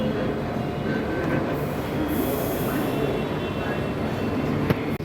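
A metro train running near Jayaprakash Nagar, a continuous loud rumble of wheels on rails heard from inside the car, with faint squeals and a brief clunk near the end.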